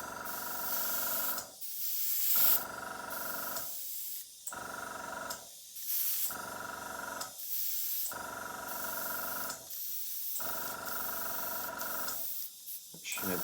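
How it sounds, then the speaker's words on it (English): An airbrush sprays in a series of test bursts while its pattern is set before painting an N gauge model train. The steady hiss comes in several long spurts of about two seconds each, separated by short silences. "before I actually start spraying, I want to check the spray pattern"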